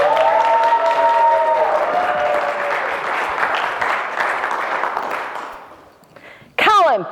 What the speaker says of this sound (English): Please give a huge round of applause for Pauline, everybody!